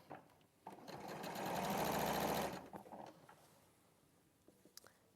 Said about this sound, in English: lift up the foot, pivot the fabric, put the foot back down and continue to sew